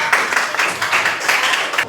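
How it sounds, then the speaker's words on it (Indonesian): A crowd claps steadily for a couple of seconds, a dense, even patter of many hands with no voices standing out. "Tepuk tangan buat kelompok."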